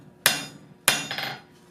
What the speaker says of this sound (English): Some hammer blows here.